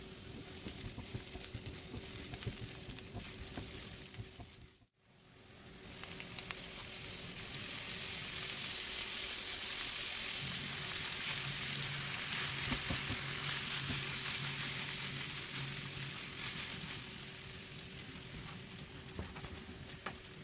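Chopped onion fries in a pan over medium-high heat before ground beef goes in, giving a steady close sizzle and crackle. A brief dip comes early, then the frying continues evenly throughout.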